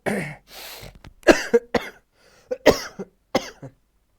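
A run of harsh coughs and throat clearing: a rough burst, then several short separate hacks spaced over a few seconds, close and fairly loud, with no talking.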